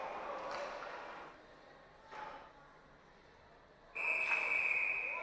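At a college hockey game between Missouri State and Utah, a referee's whistle cuts through the arena murmur in a short, sharp blast near the end, after fainter crowd noise and a commentator's voice.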